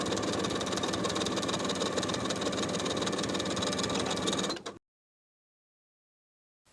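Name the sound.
sewing machine top stitching a seam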